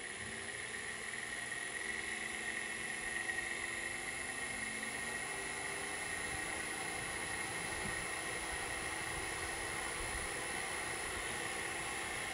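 An engine fitted with Powerspark electronic ignition running at full advance around 1800 RPM, a steady droning hum with a sustained tonal whine, constant and moderately loud throughout with no talking.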